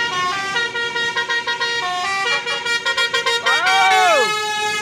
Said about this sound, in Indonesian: Telolet dari bus Chandra.